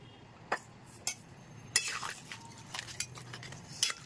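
Clinks and knocks of crab pieces and potatoes going into a pot of simmering crab curry, a few sharp metallic taps spaced apart with soft stirring and bubbling between them.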